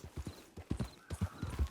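Horse hooves clip-clop at a steady walking rhythm in Red Dead Online, the close, distinct thuds carrying along without talk.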